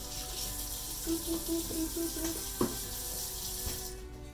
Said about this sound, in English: the first step should be wash your hands